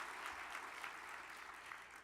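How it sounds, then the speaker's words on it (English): A conference audience applauds two speakers at a tornado summit general session, steady mid-level clapping from a crowd sustained throughout without a break. "Let's get a round of applause for our two great speakers."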